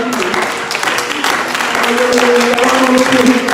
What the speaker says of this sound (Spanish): brindas un fuerte aplauso a ese Dios